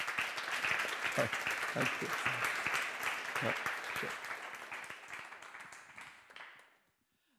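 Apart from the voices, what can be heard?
audience applause at summit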